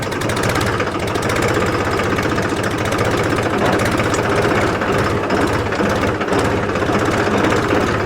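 A Mahindra 275 DI TU PP tractor diesel engine running in top gear, a loud, close, steady throbbing drone with a rapid knocking pulse and no break throughout.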